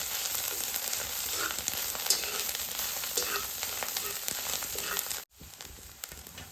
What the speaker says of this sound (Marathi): फोडणी तळलेली आहे